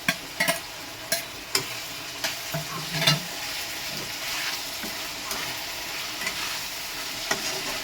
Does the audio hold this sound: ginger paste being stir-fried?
yes